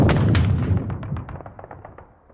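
Rapid burst of gunfire from the war game Squad Battles Eagles Strike, loud close shots that thin out into scattered single reports and fade, with no talk over them.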